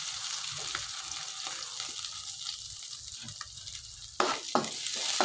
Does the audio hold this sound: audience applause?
no